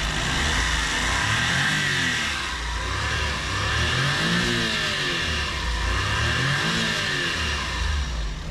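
A turbocharged, timing-chain Suzuki Every Wagon engine revs up and down repeatedly, its rising and falling pitch sweeping in several waves over a steady close-up engine drone, loud and continuous with no talking.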